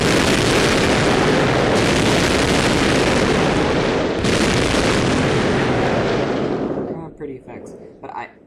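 Bismarck and Iowa battleships trade cannon fire in the Civilization III World War 2 mod, a dense, loud, continuous roar of booms and blasts that ends abruptly, leaving a few scattered faint pops.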